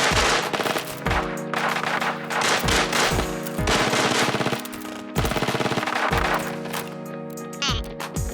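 MPX submachine gun fire in the shooter Arena Breakout comes in rapid bursts, several sharp volleys loud and close with brief pauses between them.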